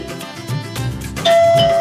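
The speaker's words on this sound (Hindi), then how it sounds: "डोरबेल बज रही है" An electronic doorbell chimes with a clear sustained tone, ringing out loudly after a stretch of muffled background sound.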